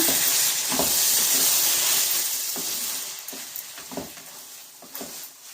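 Taro leaves and a hilsa fish head sizzle steadily in a pan, with a loud frying hiss at first that eases off as periodic scraping stirs come through, several distinct knocks and scrapes spaced roughly a second apart.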